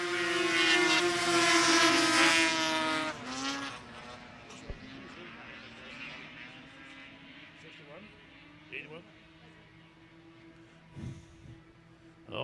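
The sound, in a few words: snowmobiles racing on frozen pond, Arctic Cat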